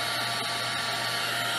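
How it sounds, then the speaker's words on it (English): A decades-old household hair dryer blows continuously, a steady loud whooshing hiss with a constant motor hum underneath and no pauses. "My hair dryer's right over there."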